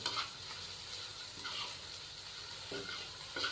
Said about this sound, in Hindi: 1 मिनट के लिए हम सारी सब्जियों को अभी फ्राई कर लेंगे